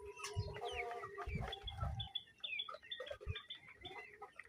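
Bahama chickens cluck and chirp in a busy flock, overlapping calls close by with soft low thumps and patter underneath and no speech.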